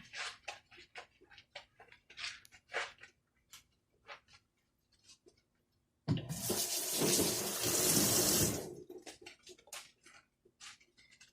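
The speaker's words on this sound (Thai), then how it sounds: "ล้างฟองน้ำนะคะ" A sponge is rinsed under a running kitchen tap for about two seconds of steady, close water splashing, set between soft clicks and small handling sounds.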